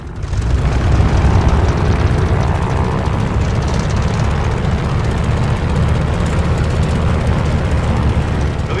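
A video-game plane's engine running at full power for takeoff, a loud dense continuous roar that holds steady throughout.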